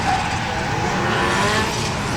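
A drift car enters a corner during Pro Am qualifying at a British Drift Championship round, its engine roaring steadily with broad tire noise and squeal held throughout, loud and close with no talk.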